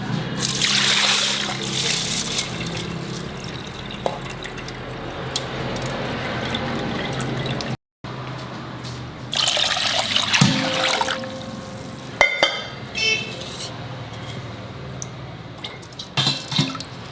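Water runs and splashes while soaked grains are washed and strained for sannas, a steady tap-like flow with trickles and drips, briefly cut off midway, then resuming with clinks and splashes.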